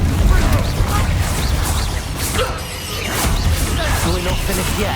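Confringo fire blast spells cast in Hogwarts Legacy, a burst of crashing, whooshing magical impacts in a busy combat mix, loud and close with repeated swishes and thuds.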